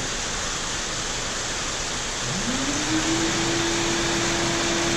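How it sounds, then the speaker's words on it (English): A shop vacuum hooked to a Longmill CNC router runs as a loud, even hiss, and partway through a rising motor whine climbs and settles into a steady high tone as the machine spins up for pocketing. "we'll turn the vacuum on and we'll roll"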